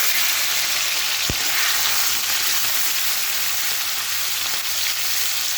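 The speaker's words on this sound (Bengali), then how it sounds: "তো চিংড়ি মাছ আমি ভাজা বসিয়ে দিচ্ছি।" Prawns frying in a pan of hot oil, a constant loud close sizzle with one brief knock partway through.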